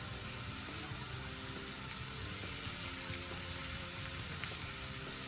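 Sliders cooking on a Homping portable grill give off a steady, even sizzle that holds at the same level throughout, with no one talking over it.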